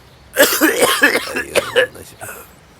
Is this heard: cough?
yes